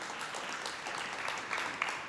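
Audience applause for a speaker at an institute gathering in Cambodia, a steady, moderately loud patter of clapping from a room of people, continuing throughout.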